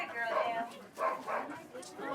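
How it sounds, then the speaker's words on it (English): Alaskan Husky sled dogs at a musher camp in Skagway, Alaska, giving short barks and yips in a few close bursts, mixed with a person's voice. "dogs are all Alaskan Huskies"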